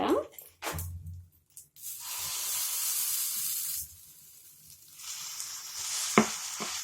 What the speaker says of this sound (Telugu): ఇమీడియట్లీ మనం ఇలా చక్కగా దోశ వేసేసుకుందాం